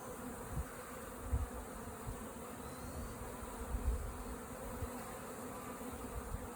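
A dense honeybee swarm being hived buzzes steadily close by, a constant low hum with occasional soft bumps and knocks, no voices.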